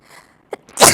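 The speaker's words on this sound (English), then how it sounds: "Oh my God, I sneezed into the mic." A sudden sneeze bursts loudly right into a microphone, preceded by a brief sharp intake and a faint breathy lead-in, all within about a second and with no talking.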